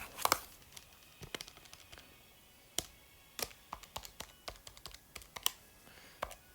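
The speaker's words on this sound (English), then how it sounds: "typing into the calculator for this part" Fingers tap out a calculation on calculator keys as a string of quick, light, irregular clicks, close and quiet, with short gaps between bursts.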